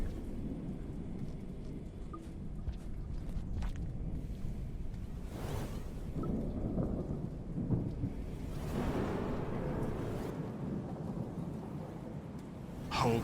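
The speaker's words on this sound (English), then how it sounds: "Those crashes of thunder" Heavy rain pours steadily through the stormy night of Rain World, broken by repeated deep rolling crashes of thunder that swell and fade, loud and close, with no voices.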